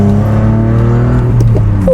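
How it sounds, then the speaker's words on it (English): Loud, steady engine drone from inside a BMW E46 drift car on a public road among traffic, a close continuous hum with a brief rise near the end. "Oh, traffic, lovely."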